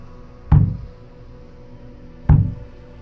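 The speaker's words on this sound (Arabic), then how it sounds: "لكن جسمه ارتجف وهو سامع طرقات على الباب" Two single knocks sound on a wooden door, about two seconds apart. Each is a dull, close thud in an otherwise quiet room.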